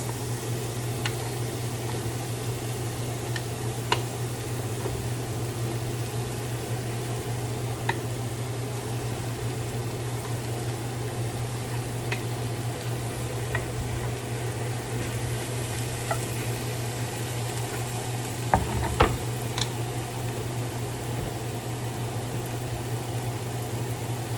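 Apples frying in a pan as pork chops with apples and onions cook, giving a steady soft sizzle with a constant low hum underneath and a few faint clicks and clinks.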